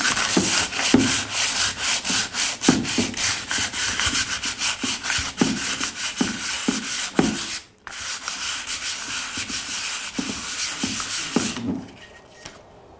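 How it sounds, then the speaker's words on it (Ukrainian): Fine 150-grit sandpaper rubbed by hand over a wooden surface, a steady close scratchy back-and-forth rasp with rhythmic strokes, briefly pausing once before resuming, then fading at the end. "простою наждачною бумагою я використовую бумагу 150, тобто дрібненьку"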